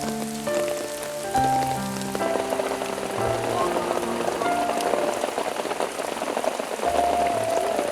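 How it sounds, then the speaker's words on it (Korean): Steady rain falling and raindrops pattering on surfaces, a dense continuous wash of drops at even loudness with no voices. "하늘에서 내리는 이 빗방울."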